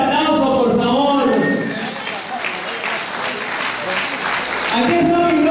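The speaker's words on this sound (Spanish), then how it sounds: "Un fuerte aplauso, por favor." Audience applause welcomes an arriving guest, Bombita, at a municipal homage to senior citizens in Paramonga; a loud wash of clapping and crowd noise rises and dips, with voices audible over it at the start and end.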